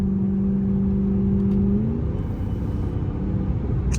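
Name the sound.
Hellcat car engine revving with stock intake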